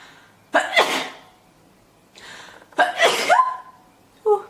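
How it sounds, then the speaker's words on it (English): A girl sneezes twice, each with a sharp sudden burst preceded by a quick inhale, close to the microphone, followed by a short vocal sound. "I'm going to sneeze."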